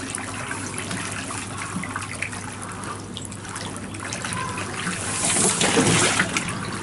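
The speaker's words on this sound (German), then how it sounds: "Wir lassen jetzt gerade das Wasser ins Planschbecken." Water runs steadily into a garden paddling pool, a continuous splashing trickle that grows somewhat louder and fuller toward the end.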